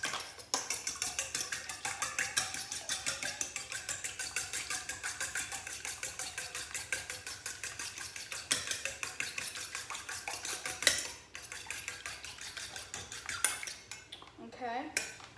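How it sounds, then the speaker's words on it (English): Milk being whisked into ingredients in a bowl, heard as a fast, continuous clatter of whisk against the bowl that runs steadily at moderate volume and then trails off into a few scattered clinks. "take 1/4 cup of milk, dump it in, and then you're gonna whisk it"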